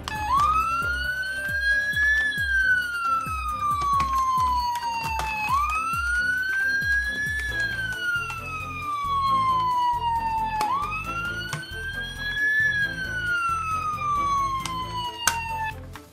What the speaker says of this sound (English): Oh wow, it's Nurse Flood's lovely ambulance.